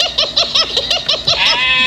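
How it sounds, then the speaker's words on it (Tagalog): In a video game, a goat lets out a loud, close, rapid stuttering bleat of about eight quick pulses that ends in one drawn-out cry. "Katayin natin tong kambing na to."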